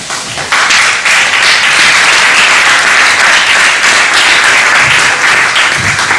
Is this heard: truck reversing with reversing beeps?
no